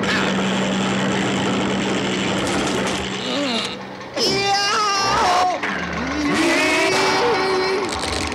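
An Inspector Gadget cartoon motor whirs and chugs with a buzzing, steady mechanical drone, broken by sudden squeals and wobbly tonal cartoon sound effects and interrupted by brief pauses.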